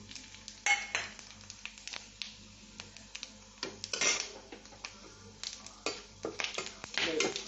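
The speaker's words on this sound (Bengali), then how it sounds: "তেলটা গরম হয়ে গেছে, এবার আমি ফোড়নটা দিয়ে দিচ্ছি।" Whole spices dropped into hot ghee and oil for tempering, during khichuri preparation with ripe mango, sizzle and crackle in short bursts alongside clinks of a utensil against the pan, close and fairly quiet.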